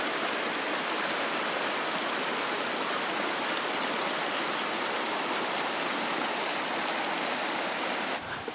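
A mountain creek in the northern Ruby Mountains flows somewhere below a steep trail, giving a constant broad rushing wash that stays even throughout, with no voices.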